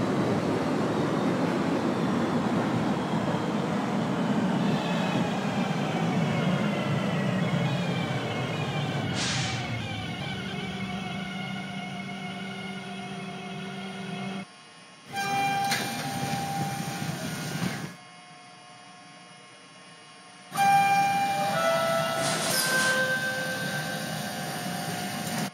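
Simulated subway train on Toronto Line 4 in the openBVE game pulling into a station, a rumbling run that slows and fades, then gives way to brake hiss, electronic tones and door sounds with brief silent gaps.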